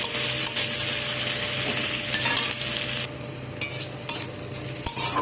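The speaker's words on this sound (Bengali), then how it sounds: "এখন কেটে রাখা পেঁয়াজগুলো দিয়ে দেব। একটু লালচে করে ভেজে নেব।" Onions fry in hot oil with a dried chilli, giving a continuous close sizzle that softens partway through, punctuated by utensil scrapes and a few clinks against the pan; no talking.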